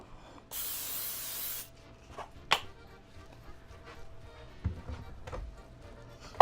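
Pam cooking spray hisses from an aerosol can in one steady burst of about a second at a kitchen counter, followed by quieter clinks and taps of cooking prep.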